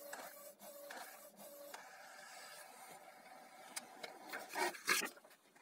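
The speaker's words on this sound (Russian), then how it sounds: "Вот он печатает" A Canon MG2540S inkjet printer whirs and clicks as the print head shuttles back and forth printing a test page, with scraping paper-feed sounds, fairly quiet and close.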